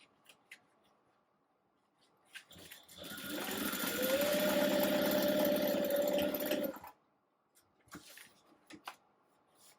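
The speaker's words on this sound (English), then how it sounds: "I just stitch down at about 1/4 of an inch seam allowance to close up the sides." A sewing machine runs steadily for about four seconds, stitching the side seams of a handbag at a quarter-inch seam allowance, with faint fabric handling and rustling before and after.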